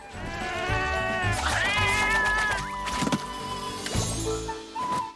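Gayo cats in the Monster Hunter Rise video game give several quick, high, sliding meows in close succession, loud over a busy game soundtrack with clunks and chimes.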